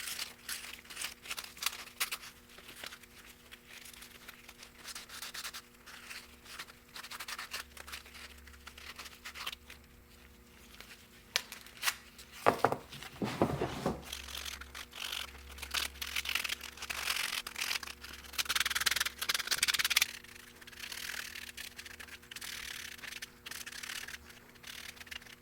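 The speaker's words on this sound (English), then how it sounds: "the emery cloth that I'm using here, what is it exactly? It's I believe it's an 80 grit." Steady scratchy rubbing of 80 grit emery cloth sanding a Yamaha rubber intake boot, continuous and fairly quiet over a constant background hum, with a couple of louder scraping strokes midway.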